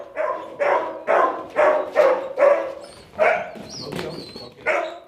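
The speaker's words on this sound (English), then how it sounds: "That's a big bark for such a small pup" A young Huntaway sheepdog pup barks repeatedly, with about eight sharp, fairly loud barks in a steady rhythm close to the microphone, and a short gap near the end before the last bark.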